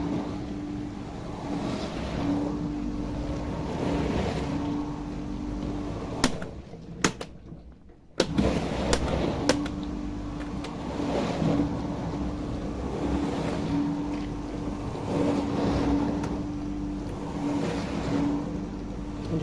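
A Miele G230 dishwasher runs through the end of its final rinse with a steady churning hum and a faint tone. Midway it briefly drops out around a few clicks, then the sound resumes.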